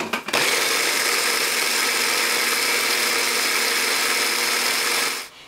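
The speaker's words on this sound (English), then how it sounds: "I'm just going to blend this up to make the base for my wet ingredients." A blender whirs steadily as it blends milk and coconut oil for a pumpkin pancake batter, a loud continuous motor whine that starts abruptly and cuts off after about five seconds.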